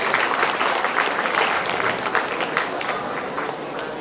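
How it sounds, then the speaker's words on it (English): An audience at an inter-college youth festival applauds a guest, steady dense clapping at a fairly loud level for the whole stretch. "A round of applause for Mrs. Bela Das."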